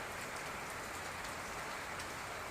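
Morning rain falling steadily outdoors, a dense even hiss of drops on surfaces with occasional louder drips, constant and fairly quiet.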